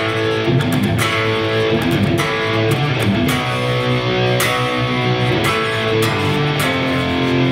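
Distorted electric guitar power chords playing a riff, heavy and continuous with sharp accented chord attacks in a driving groove, loud and alone.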